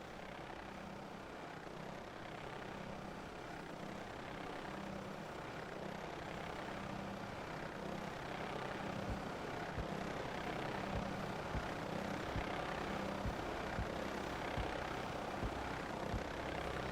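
Several aircraft roar through a flare pass at the Cosford airshow, a broad, steady engine rumble that builds and swells over the whole stretch with no voices.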